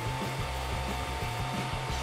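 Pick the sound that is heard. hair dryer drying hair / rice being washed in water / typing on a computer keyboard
hair dryer drying hair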